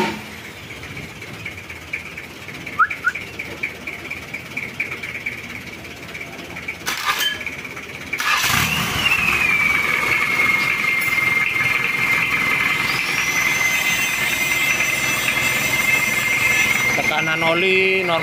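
A Mitsubishi Pajero engine cranks briefly, then fires and settles into a steady, loud idle that holds to the end, with a faint whine present.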